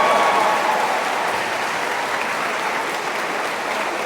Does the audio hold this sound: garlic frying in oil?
no